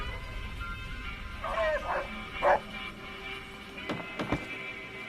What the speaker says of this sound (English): It's a rather impressive dog you got there